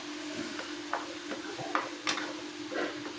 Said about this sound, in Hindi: तो इसको हम अच्छी तरह से अपने गोश्त के साथ भूनेंगे